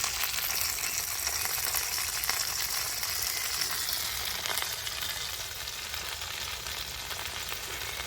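Food sizzles and fries steadily in a pan at an outdoor camp cook-up with chili, a dense continuous hiss that stays loud and even throughout without talk.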